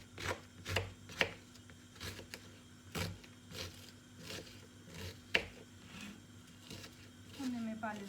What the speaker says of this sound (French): Je découpe mes oignons en petits carrés.